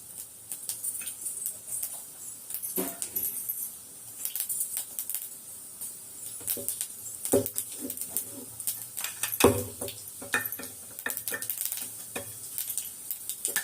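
Mustard seeds and urad dal fry in hot oil for a beetroot poriyal. A steady, thin sizzle carries scattered crackles and small pops at close range, with no talking.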